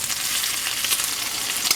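Bacon frying in a pan on the stove and being flipped over, a loud, continuous close sizzle with light scraping and clinking from the turning.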